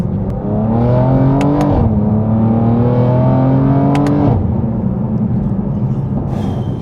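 A tuned 700-horsepower BMW M2 G87 with a single mid-pipe exhaust pulls hard through the gears, its deep engine note climbing steadily, dropping at a shift, then rising again up close and loud.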